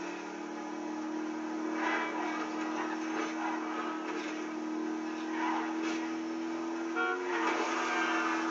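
A mariachi car drives in GTA Online with a steady droning engine and a tonal whine that runs throughout, fairly loud and continuous, with no talk.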